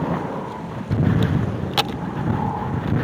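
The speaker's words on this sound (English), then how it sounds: "It is very windy today" Strong canyon wind buffets a microphone, making a continuous low roaring rumble that swells slightly midway, with a brief crackle near the end.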